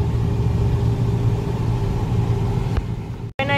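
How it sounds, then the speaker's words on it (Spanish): Steady low rumble of town car traffic in Altamirano, Guerrero, engines idling and rolling past nearby, with a brief gap near the end before a tonal whine rises. "Yo no sé por qué hay tanto carro ahorita."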